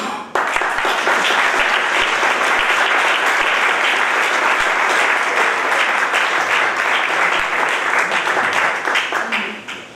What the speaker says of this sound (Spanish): lo primero que yo quiero pedir es un fuerte aplauso para Pepe Esquina